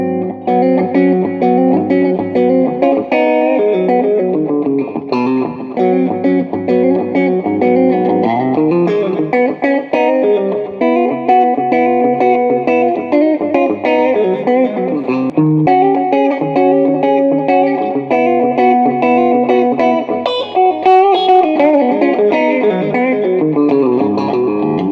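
A Music Man AX20 electric guitar on its middle pickup position plays a continuous strummed and picked chord passage for about 25 seconds, loud and steady, colored by distortion, chorus and reverb effects.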